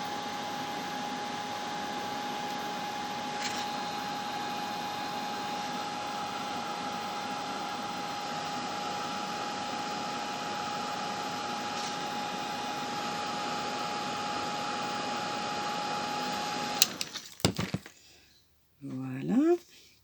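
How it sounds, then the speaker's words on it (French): A heat embossing gun blows hot air over embossing powder, making a steady, close whooshing roar with a faint whine that runs unbroken for most of the stretch, then cuts off into a few brief clatters and rustles. "Par contre, vous aurez le bruit du pistolet"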